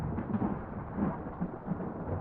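Storm thunder in Return of the Obra Dinn, a steady low rumbling roll with rain-like hiss, continuous and moderately loud without talk.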